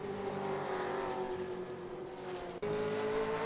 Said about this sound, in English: Let's get a bit of engine noise.